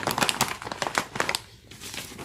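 A plastic zipper bag of crispy muesli hamster feed with mixed grains and pellets is handled and opened, giving close, continuous crinkling and rustling with sharp crackles, fading to a brief quieter rustle.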